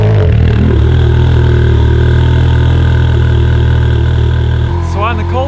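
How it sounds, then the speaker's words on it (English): A Ferrari F430 cold start with damaged, ticking left-side headers: a loud, close, steady idle hums throughout, and its tone shifts slightly near the end. "on the cold start, you can really hear the left side of the headers ticking away because the headers are messed up."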